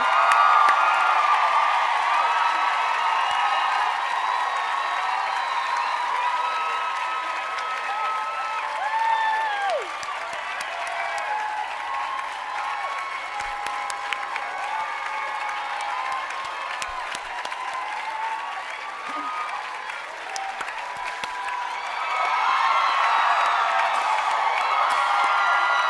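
Sustained applause and cheering from a commencement crowd honoring the graduating class of 2011, steady clapping with scattered whoops, and a voice speaking over it midway.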